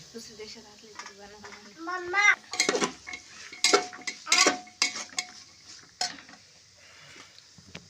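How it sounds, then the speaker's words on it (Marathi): Rice and other ingredients are stirred in a pot on a gas stove, with scraping and clinking of a spoon against metal in uneven strokes while someone talks nearby. "चांगलं व्यवस्थितपणे आपल्याला सगळं मटेरियल हलवून घ्यायचं आहे"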